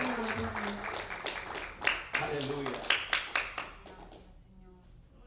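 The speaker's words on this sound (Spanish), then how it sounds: "Damos un aplauso al Señor." A church congregation claps in a brief burst of sharp hand claps mixed with a voice calling out, then the applause fades quickly.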